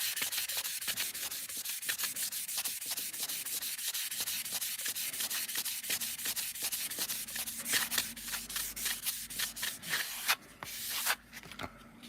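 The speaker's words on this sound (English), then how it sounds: "I'm just rubbing it down to see how far down it goes." Filler on the surface of an Airfix Concorde plastic model kit rubbed down by hand, steady rhythmic rasping strokes, close and continuous, with no talking.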